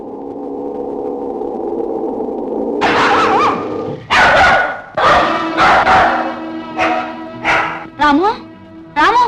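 A dog barks repeatedly in loud, close bursts, with yips and whimpering mixed in, following a stretch of voices talking.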